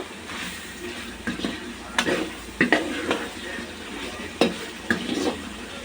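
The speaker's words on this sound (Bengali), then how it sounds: "খুব ভালোভাবে মশলাটাকে কষিয়ে নেব, তেলের সাথে ভেজে নেব।" Potatoes, pointed gourd and spices sizzle steadily in hot oil in a pan while a utensil scrapes and stirs, giving repeated sharp clinks and scrapes at an irregular pace.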